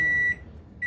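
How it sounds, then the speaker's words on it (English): Two steady electronic beeps from a microwave oven, separated by a short pause, loud and close with no talking. "And get ready for the beep."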